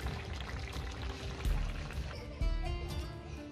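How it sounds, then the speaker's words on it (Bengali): Padma hilsa fish and brinjal curry poured from the pot into a bowl, a close, continuous liquid pour with a couple of soft clunks of the vessel. "এখন আমি বাটিতে ঢেলে নিব।"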